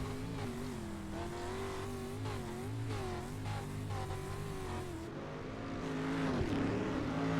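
Race cars roar around Bark River Speedway in a league race, several engines droning and rising together in steady revving tones, fairly distant, with a brief louder surge near the end.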